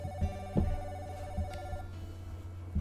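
A telephone rings in the video game Sakura Swim Club, a repeating electronic bell pattern with short bursts at a steady rhythm, clear and alone without talk.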